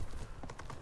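Horse hooves striking the ground in Ghost of Tsushima, a short run of several close, fairly loud clopping beats at a quick steady rhythm, heard alone.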